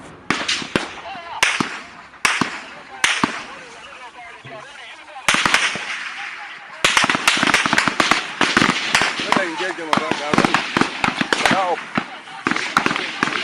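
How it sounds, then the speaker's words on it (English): Rapid volleys of gunfire from people on high ground crack out in dense bursts, loud and near, with short pauses between strings of sharp reports and shouting voices mixed in. "Those who are at the high ground, stop firing."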